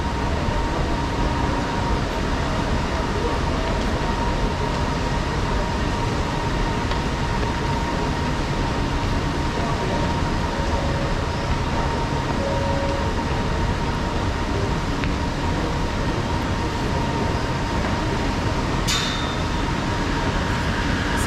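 Steady rumble of a Kuala Lumpur MRT underground train on the Kajang line running through a tunnel, with a constant drone throughout, a faint tonal hum, and a brief high-pitched squeal near the end.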